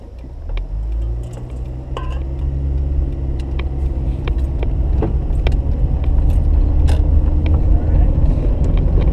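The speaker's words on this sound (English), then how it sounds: "Very unhappy downshift to second." A car engine labors after a rough downshift to second gear, a low rumbling drone that swells and holds loud and close, with scattered light rattles and clicks inside the cabin.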